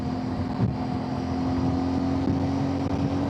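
CFMoto 450MT adventure motorcycle engine revving high in sixth gear on an open road, a steady droning tone under heavy wind rush, continuous and close.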